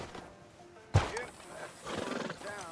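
A horse in the video game Red Dead Redemption 2 gives one sharp neigh near the start, followed by hoof clip-clops, under a talking voice.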